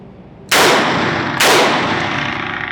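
Two loud pistol gunshots fired one-handed while holding a handheld light, each a sharp crack with a long ringing tail, roughly a second apart.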